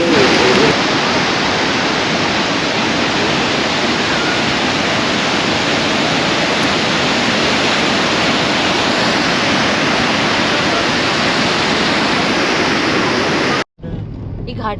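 Loud, steady rush of a river flowing through a narrow mountain valley near Gangotri in Uttarkashi, a broad continuous roar of water that holds for most of the stretch before cutting off abruptly near the end.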